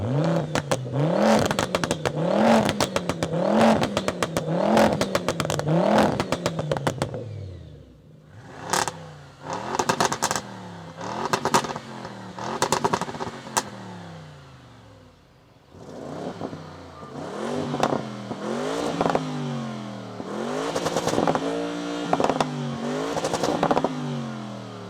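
Audi RS6 estates of three generations, the 680 hp C8, 650 hp C7 and 670 hp C6, rev hard in turn, each close, loud engine note rising and falling in repeated sharp blips with brief pauses between bursts.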